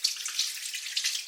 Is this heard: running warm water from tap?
yes